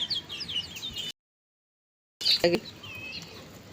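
Short bursts of clucking and chirps from nearby chicks, broken by a brief silent gap partway through.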